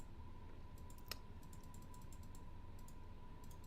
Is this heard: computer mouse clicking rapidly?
yes